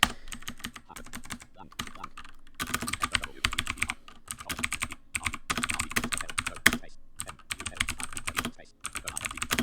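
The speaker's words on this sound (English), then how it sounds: "typing this on a mechanical keyboard is a fantastic breath of fresh air" Rapid typing on a mechanical computer keyboard, dense bursts of crisp clacking keystrokes close to the microphone, broken by short pauses.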